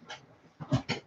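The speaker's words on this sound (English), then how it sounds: "That dog wants to say hi too." A dog pants and whimpers in short breathy bursts, a faint one early and two louder, closer ones at the end, with no talking.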